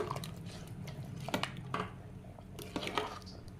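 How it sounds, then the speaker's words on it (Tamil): Soaked rice poured into a pot of boiling water for a chicken biryani made in a pressure cooker, with scattered splashes, wet clinks and pot sounds against a low bubbling background. "இப்போ இதில் நம்ம ஊற வச்சுருந்த அரிசியை ஆட் பண்ணிக்கலாம்."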